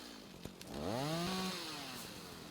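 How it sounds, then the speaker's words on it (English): A chainsaw in the video game Rising World revs up loud and close, its engine pitch rising sharply, then holding a strong buzzing whine that slowly eases off over a couple of seconds. "Let's use a chainsaw."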